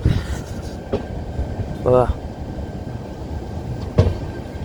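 A train rolls along slowly with a steady low rumble, a brief rhythmic squeal of wheels midway and a couple of sharp clunks, no one speaking.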